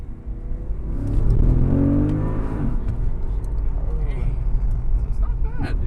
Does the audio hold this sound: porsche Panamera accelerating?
yes